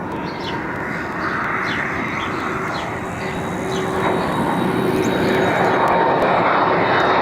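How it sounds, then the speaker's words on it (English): Passenger airliner arriving on runway 24R at Barcelona airport, its engine roar building steadily from a distant rumble to a loud, close sustained drone, with faint background music. "This might be the plane."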